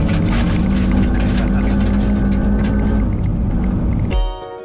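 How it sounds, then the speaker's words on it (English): An electric GMC Hummer truck accelerates hard in a straight line, heard from inside the cabin as a loud, steady low rumble and whine that drops away abruptly near the end. "It makes noise inside, what sounds like a truck"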